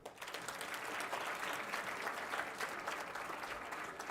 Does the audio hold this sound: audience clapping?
yes